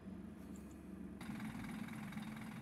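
Simulated KMB Scania K310UD double-decker bus engine in OMSI 2 on narrow New Territories East roads, a steady low idling drone that swells louder about a third of the way in, with no talk.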